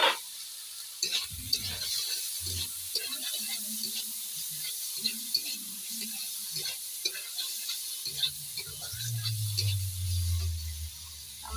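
Tomatoes frying in a pan with a little salt and turmeric, giving a steady close sizzle with intermittent stirring scrapes and a louder sizzling burst toward the end, no talking.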